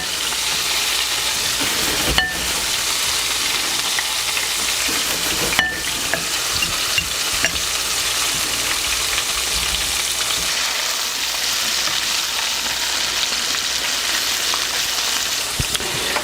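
Continuous loud sizzling and crackling of potatoes frying in hot oil, with a couple of sharp clinks partway through and no talking.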